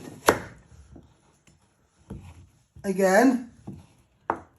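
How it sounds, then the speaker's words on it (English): A kitchen knife cuts through pumpkin on a cutting board, a sharp chop near the start and another toward the end. A voice talks between the two chops. "And then you chop it in half."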